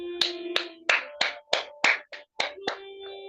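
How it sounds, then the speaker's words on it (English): One person clapping hands about nine times at a steady, moderate pace, crisp and close with brief ringing tails and no talking. "I think I should clap."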